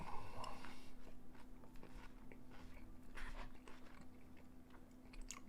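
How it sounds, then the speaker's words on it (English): Close, steady chewing and biting sounds, with soft wet crunches repeating through the clip over a constant low hum. "all the chewing noises are destroying your sense of being"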